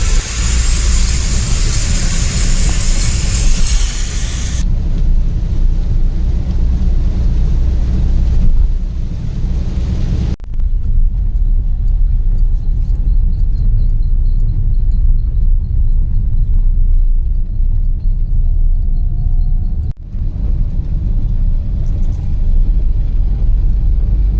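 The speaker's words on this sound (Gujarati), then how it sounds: "હું પેલું ગાડી ચલાવું છું" Car cruising on a Gujarat expressway, heard from inside as a steady, loud low road rumble with wind buffeting throughout, a brief louder wind burst at the start and no talk.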